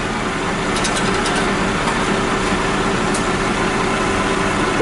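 An asphalt paver's engine runs while paving a residential street, giving a steady, unbroken low rumble at close range, with no talking.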